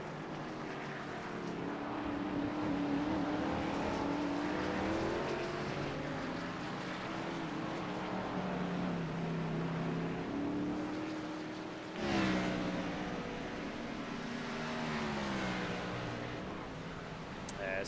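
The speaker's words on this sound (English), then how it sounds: "As cars head down the front straightaway here in Mexico City." Race cars in the iRacing NASCAR FedEx Grand National Series at Mexico City roar down the front straightaway, a steady loud engine drone with shifting pitch and a fresh surge of another car passing partway through.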